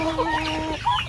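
Chickens cluck inside a coop in General Santos City while they wait to be fed, with several overlapping calls close by and steady background noise.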